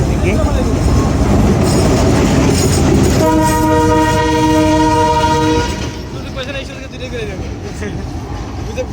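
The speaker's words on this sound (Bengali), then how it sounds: "পঁয়ষট্টি সিরিজের পঁয়ষট্টি পঁচিশ নাম্বার লোকোমোটিভ এখন যাচ্ছে টিটিপাড়া রেলওয়ে" A Bangladesh Railway 6500-series locomotive moves along the suburban shunting line at Kamalapur station, a loud close diesel rumble with a sustained horn blast in the middle before the engine noise eases off.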